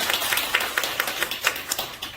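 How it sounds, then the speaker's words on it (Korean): Brief clapping from a lecture audience, a handful of distinct sharp claps in a loose irregular rhythm, fairly close and not very dense, with no talking over it. "박수 한번 주셔야 됩니다."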